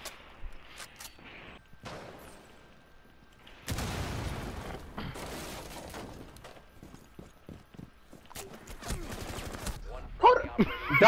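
Doc's stim pistol fires in a video game, with sharp shots in scattered bursts and rapid clusters among quieter game noise, while players talk between them.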